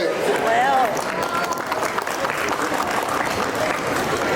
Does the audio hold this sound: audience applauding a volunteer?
yes